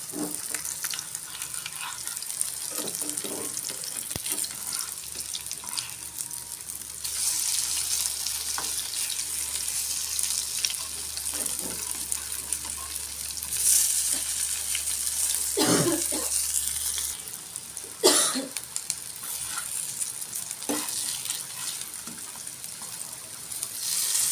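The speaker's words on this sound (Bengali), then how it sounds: "এক পিট ভাজা হয়ে গেছে মানে উল্টাই দিব" Fritters of leafy greens and bitter gourd shoots frying in oil, a steady close sizzle and crackle with occasional stirring and flipping scrapes, lasting throughout with no talking.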